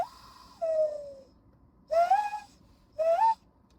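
A person imitates a loon call with three drawn-out, wavering whistled tones, the last two rising and warbling, alone against a quiet background.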